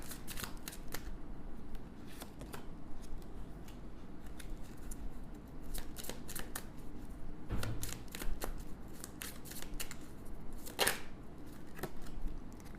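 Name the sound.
shuffling and drawing tarot cards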